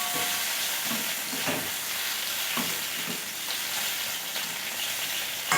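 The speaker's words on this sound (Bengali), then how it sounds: "তো চিংড়ি মাছগുলো প্রায় আমার ভাজাই হয়ে গেছে" Prawns fry in hot oil in a pan, a steady close sizzle and hiss with soft crackles throughout and no talking.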